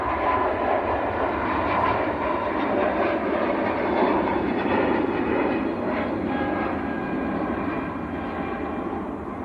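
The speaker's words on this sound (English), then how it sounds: "That was a fairly new aircraft actually, TC Lima Papa November, delivered in September 24, so about a year and a half old." An aircraft at Manchester Airport passes with a loud, sustained jet roar that holds steady and begins to fade slightly toward the end.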